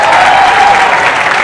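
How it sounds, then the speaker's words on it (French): Loud, dense applause from a comedy show audience, a brief continuous burst of clapping close to the microphone. "peuvent applaudir très fort s'il vous plaît"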